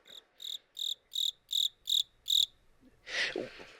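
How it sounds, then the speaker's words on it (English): Crickets chirp in seven crisp, evenly spaced pulses, clear and isolated against near silence, followed by a brief softer rustling burst at the end. "Cue the crickets, Roger."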